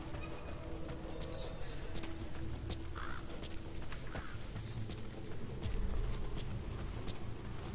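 Rhythmic hoofbeats clop steadily over a constant background hum, with faint chirps scattered above, a horse trotting at an even pace in the video game Metal Gear Solid V: The Phantom Pain.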